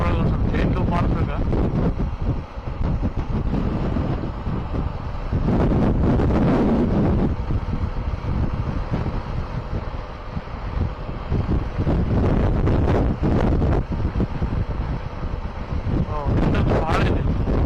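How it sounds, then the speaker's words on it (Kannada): Strong wind buffets the helmet microphone on a Suzuki V-Strom SX 250 motorcycle ride on the highway, a loud, continuous roar and rumble that surges and fades throughout. "ಭಾಳ ಇದೆ, ಭಾಳ ವಿಂಡ್ ಐತಿ."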